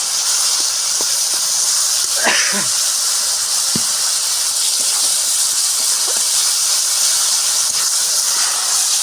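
Masala with tomato for a river tangra fish curry sizzles in a pan, giving a steady, loud hiss throughout with faint scattered clicks and pops.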